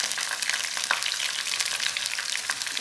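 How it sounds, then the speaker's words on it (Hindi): Garlic ginger paste frying with onions and cumin in a pot for chicken pulao, a steady close crackle and hiss with occasional stirring clicks, continuous and fairly quiet with no voices. "ये डाल देंगे और मज़ीद आधे मिनट के लिए हम इसको फ्राई करेंगे प्याज के साथ।"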